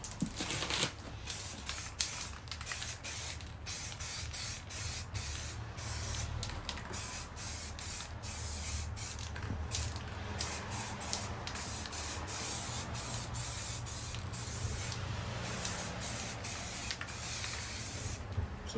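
Steady, continuous spray hiss from an aerosol can laying a thin protective coat on cleaned brake discs for a Volkswagen Caddy, running close and unbroken for the whole stretch with brief dips, no talking.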